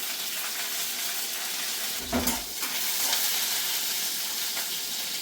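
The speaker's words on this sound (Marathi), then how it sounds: "मग मी थोड्या चार पाच मिरच्या तिखट घेतल्या व या मिरच्या टाकल्या" Green chillies frying in hot oil give a loud, continuous sizzle and crackle close up, with a brief burst of stirring partway through.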